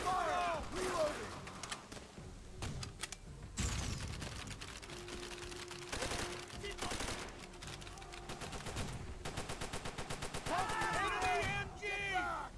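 Rapid gunfire and machine-gun bursts rattle through a Call of Duty World at War battle on Peleliu, with dense overlapping shots near and far and shouting soldiers' voices mixed in.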